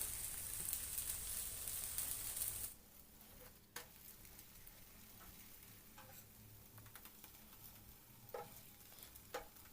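Holige flatbread sizzles softly on a hot pan, with a brighter hiss at first that drops to a quieter crackle after it is flipped, dotted with faint ticks and light scraping.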